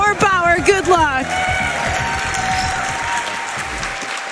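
A crowd at the SGDQ 2019 speedrunning event applauds in a dense, steady wash of clapping that carries on for several seconds, with a voice speaking over the opening moments.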